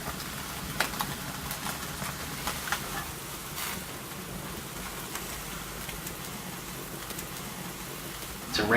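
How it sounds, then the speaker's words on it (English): Rain falls outside on a wet day in Italy, a steady soft patter of drops with a brief louder noise at the end. "It's a rainy day outside."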